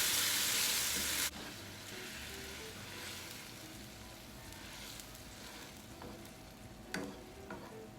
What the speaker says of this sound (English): We're gonna let that simmer and cook for about, well, we'll do about 2 minutes without a lid